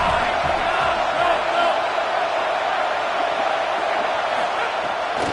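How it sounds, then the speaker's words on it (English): A college football stadium crowd at a Sac State at UCLA game gives a loud, continuous roar of cheering and shouting that holds steady throughout. "This crowd trying to make life miserable for this offense."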